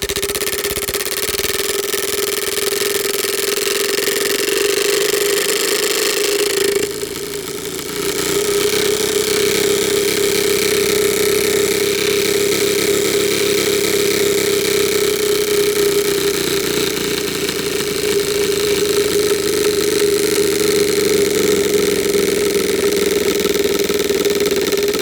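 A bicycle rigged to imitate a KTM Duke motorbike engine gives off a steady buzzing drone like an idling engine, close and loud, with a brief dip near the start and no talking.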